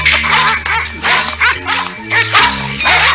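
Cartoon dogs bark in quick, loud, near yips and bow-wows over a backing of music tones, several barks following one another in an uneven rhythm.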